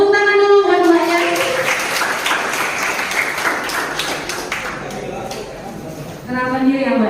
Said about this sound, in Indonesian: Tepuk tangan dulu buat mbaknya.